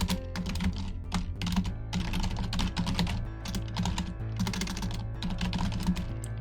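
Rapid, steady clatter of keys on a loud, cheap computer keyboard, typed continuously with dense clicking close to the mic and no voices.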